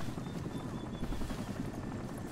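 Helicopter in the video game Crysis, a steady low rotor drone and engine rumble holding at an even level throughout, fairly close, with no talk over it.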